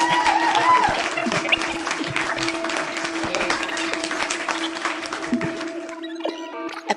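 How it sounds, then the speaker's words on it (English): A crowd applauding and cheering as a playful alien audience sound effect, dense clapping with a few whoops and a steady hum, fading out near the end. "way up high in outer space, aliens clapped and cheered"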